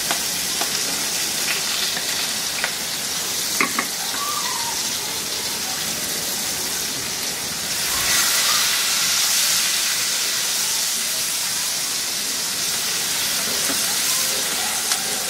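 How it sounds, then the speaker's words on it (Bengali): Onions frying over low heat in a pan with browned chicken bits for chicken adobo, a steady soft sizzle and hiss running throughout with a few faint crackles and a brief louder swell midway. "এর মধ্যে আমি কিছু পেঁয়াজ দিয়ে ভেজে নিব। আমি এগুলাকে আমি এখন অল্প আঁচে ভাজতেছি"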